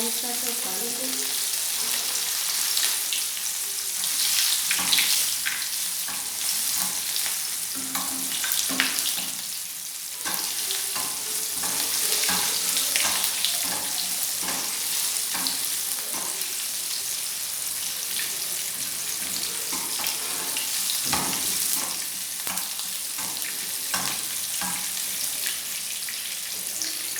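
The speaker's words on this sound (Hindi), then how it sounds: "घी ऑयल हमारा गर्म हो गया, अब हम इसे फ्राई करेंगे।" Chapli kabab patties of the Peshawari style fry in hot ghee oil in a pan, giving a steady, dense sizzle that runs without a break and without talk.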